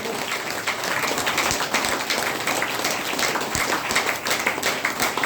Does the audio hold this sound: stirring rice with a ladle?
no